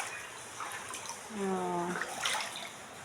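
Floodwater pours into a house with a steady broadband rush and trickle, while a voice speaks briefly over the flowing water.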